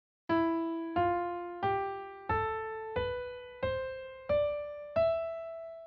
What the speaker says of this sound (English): Phrygian sounds like this